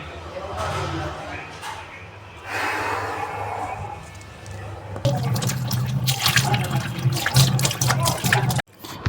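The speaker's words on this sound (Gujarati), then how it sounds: "હવે હાથ મોઢું ધોઈ નાખીએ મિત્રો" Tap water runs while a man washes his hands and face at home, a splashing flow starting midway and continuing loudly up close after he talks briefly first.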